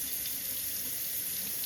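Hot water tap running steadily into a sink, a continuous even rush of flowing water heard close and alone.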